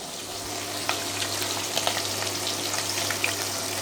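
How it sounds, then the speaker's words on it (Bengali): Fish frying in a pan on a home kitchen stove gives a steady, close, loud sizzle with scattered crackles and spits, and no voices over it. "এই যে মাছটা ভাজতেছি"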